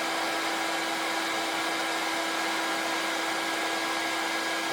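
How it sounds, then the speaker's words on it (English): Blow dryer running continuously to heat a sticker off, a steady loud whooshing roar with a constant whine and no pauses, alone without talking. "I've been told that if you put a blow dryer on the stickers it comes off"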